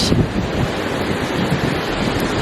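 Ocean waves at a beach in Mexico, a continuous close roar of surf mixed with heavy wind buffeting the microphone, loud and steady with no talk.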